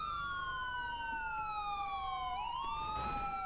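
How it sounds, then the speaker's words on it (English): A police siren in Grand Theft Auto V roleplay wails steadily, its tone sliding down and then sweeping back up, clear and unbroken with little else in the background. "let's get a siren check, please"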